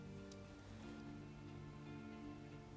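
Garlic sizzles in hot oil in a pan while cooking for a Bengali boal fish bhuna, giving a faint, steady crackle that hisses continuously without pause.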